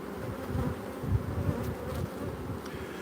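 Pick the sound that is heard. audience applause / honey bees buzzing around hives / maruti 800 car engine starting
honey bees buzzing around hives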